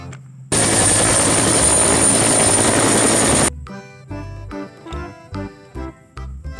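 A loud, harsh burst of helicopter rotor noise lasts about three seconds, then gives way to quieter choppy mechanical sounds.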